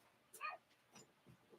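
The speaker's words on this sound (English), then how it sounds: "I've got my little yappy dog barking in the background" Small yappy dog barking indoors in the background, a few short high yips and whimpers spread out, fairly faint.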